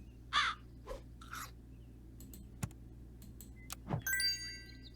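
Crow caws from Super Auto Pets: a short harsh call near the start, then game clicks and a bright chime later over a low steady hum.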